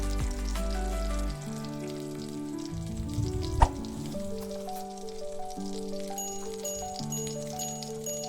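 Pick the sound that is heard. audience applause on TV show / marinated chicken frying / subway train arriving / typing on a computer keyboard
marinated chicken frying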